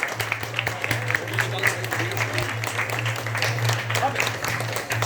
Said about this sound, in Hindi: हाँ ताली बजा सकते हैं आप लोग